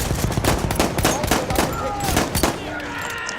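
Gunfire in the first-person shooter Rishon's Great War, rapid bursts of shots and impacts in quick succession, fairly loud, with a few whooshing effects near the end and no talk.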